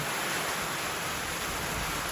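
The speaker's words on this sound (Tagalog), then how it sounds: "within 15 to 20 minutes andito yung ulan, ayan, dumating na." Heavy rain driven by wind pours down outdoors during a sudden storm. A dense, unbroken hiss of rainfall holds at a constant level throughout, close and loud with no voices.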